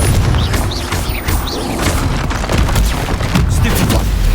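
A Confringo blast spell explodes in the Hogwarts Legacy video game as loud booming bursts. Heavy, close impacts overlap in a dense barrage, with crackling debris and rumble running throughout.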